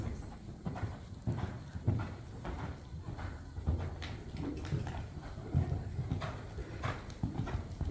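Horse hooves plodding on an arena surface during a riding lesson, soft rhythmic clip-clop thuds with some low rumble and background noise, moderately near, no clear talk.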